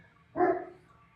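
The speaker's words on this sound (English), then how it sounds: "I don't know why my dogs are barking right now." A single short burst of dog barking, a brief loud yelp-like bark rising out of a quiet indoor background with no talk over it.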